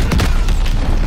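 A grenade detonates in the Call of Duty: Vanguard campaign, a loud, close boom with a rumbling low end that rolls on through the whole moment amid battlefield din.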